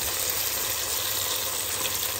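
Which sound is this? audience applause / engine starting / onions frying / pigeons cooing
onions frying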